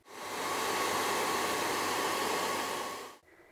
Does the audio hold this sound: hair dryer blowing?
yes